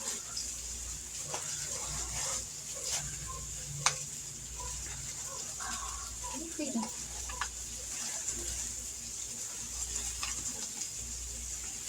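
Chicken thighs browning in a hot pan, a steady close sizzle and frying crackle throughout with occasional stirring clinks and scrapes, no talking.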